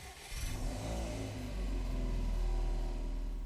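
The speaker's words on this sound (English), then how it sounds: "Let's take a listen to the startup of the car." A Subaru Impreza Sportswagon STI in Gran Turismo 6 fires up and settles into a deep, steady idle rumble, moderately loud with no talk.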